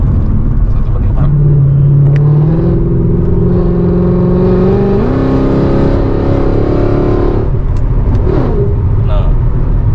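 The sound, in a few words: Mercedes C63 AMG V8 engine revving, valve sound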